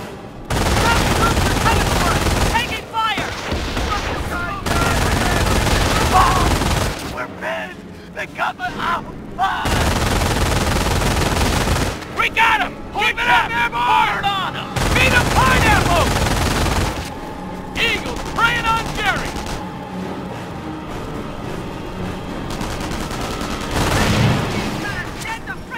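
Heavy gunfire in the WWII strategy video game Company of Heroes: bursts of machine-gun fire and rifle shots come in loud, dense blocks broken by short gaps, with booming blasts and shouted voices mixed in.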